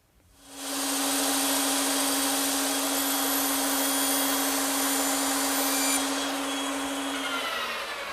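A bandsaw spins up and runs steadily through wood slats at a 90-degree cut, a loud continuous whine with a constant hum, the motor tone shifting near the end as the cut finishes.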